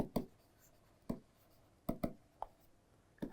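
Pen or marker strokes on a writing surface come in short scattered taps and scratches, several separate bursts spaced irregularly, quiet and close, while notes are written during a lecture on Eph-Ephrin signaling.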